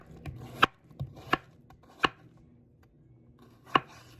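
Knife cuts cucumber into matchsticks on a cutting board with four sharp, crisp chops spaced irregularly and heard close and alone.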